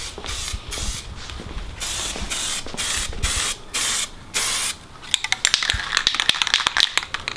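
Spray paint applied to a car in short bursts, each a sharp close hiss lasting about half a second with gaps between, followed by quicker choppy sprays and clicks of the can.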